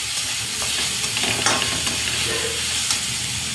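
Green chili being stirred into ridge gourd chutney in a pan, giving a steady close sizzle with soft scraping strokes of a spoon.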